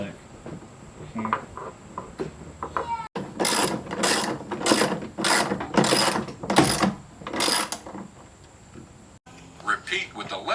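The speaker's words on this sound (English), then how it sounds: "That's the 2-inch bolt going." A ratchet drives a 2-inch bolt into a Decked drawer system during an install, giving several bursts of fast clicking from about 3 to 9 seconds. The clicks come close and loud, with brief talk before and after.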